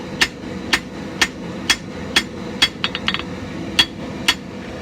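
A hammer strikes hot steel while tapering a Norse-style tomahawk bit, giving about ten sharp, ringing blows at a steady rhythm with a quick flurry of lighter taps in the middle, loud and close with no voices.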